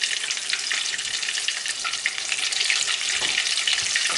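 Loaded mashed potato balls, about seven, fry in hot oil with a bright, crackling sizzle that stays steady and close throughout, with no talking.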